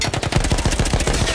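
Rapid gunfire in the video game Battlefield 1, a dense run of sharp, loud shots in quick succession filling the whole moment without any talk.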